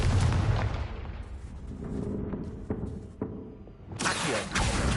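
A Confringo spell blast in Hogwarts Legacy, a loud booming explosion with rumbling echoes and scattered cracks, another burst flaring near the end.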